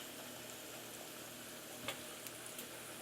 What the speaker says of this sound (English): Make sure your oil is already hot before you put in your corn tortilla